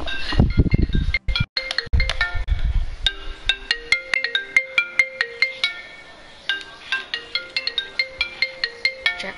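A phone ringtone of bright repeating electronic chimes in a quick melodic pattern, loud and close, following some low rumbling noise at the start.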